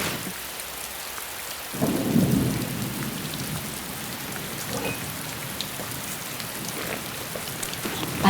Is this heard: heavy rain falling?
yes